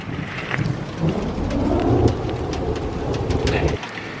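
A thunderstorm breaks over a beekeeping apiary, with heavy rain drumming on surfaces and a low thunder rumble rolling through, loud and close, with scattered sharp raindrop hits throughout.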